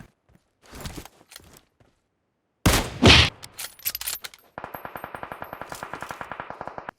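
Gunfire in PUBG Mobile: a few scattered shots and clanks, a loud burst around the middle, then a rapid, steady automatic rifle volley of evenly spaced shots lasting over two seconds, close and fairly loud, no talk.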